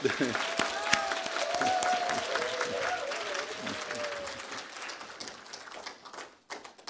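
Church congregation giving applause at a deacons' dedication worship service, a lively wash of many hands clapping that gradually thins and fades, mixed with talking and a wavering tone.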